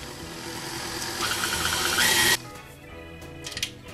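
Cookie dough being mixed with the flour mixture, a steady whirring electric mixer that grows louder and then stops abruptly, leaving light clatter.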